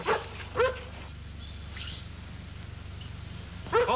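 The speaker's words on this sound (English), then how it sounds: "It looks like Jeff's dog, Lassie" A collie barks and whimpers in short bursts, with one bark near the start and another at the end, over a low steady rumble with a faint higher tone in between.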